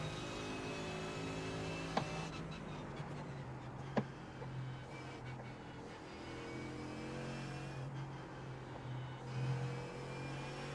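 A GT race car in the iRacing sim at Spa carries a steady engine drone under the whole stretch, broken by two brief sharp clicks early on, with no talking.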